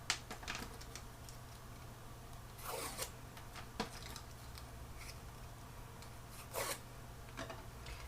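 Craft paper for a seasonal wreath is burnished to curve it, giving quiet scraping and rubbing strokes, several short dry rasps and a couple of longer swipes, close and faint.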